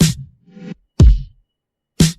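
80s LinnDrum-inspired drum beat from a song, three sparse punchy drum hits with a deep kick and bright snare-like crack, spaced about a second apart, alone and dry.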